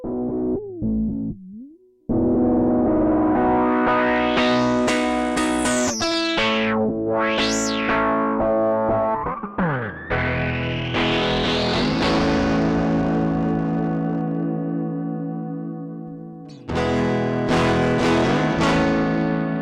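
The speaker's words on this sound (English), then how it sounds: "But then you can run it through the filter and the spring reverb and mess it up." A Moog Grandmother synthesizer tone swept through a resonant filter, rising and falling in pitch, thick with distortion and spring-reverb wash, sustained and loud.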